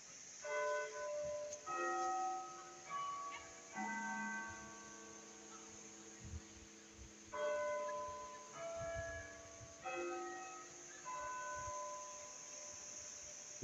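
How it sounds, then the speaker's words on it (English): Church bells ring out across a northern English market town near a First World War monument, a sequence of pealing strikes with lingering tones at a moderate distance over faint outdoor hum. "Looks like I timed it just right with the bells there."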